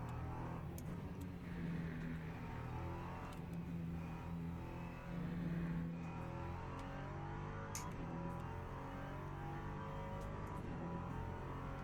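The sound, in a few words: race car engine in a video game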